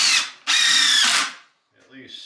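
A power drill whines in two loud, close bursts, the second longer, as it drives deck screws into a plastic barrel sled, followed by a brief, quieter mechanical rattle.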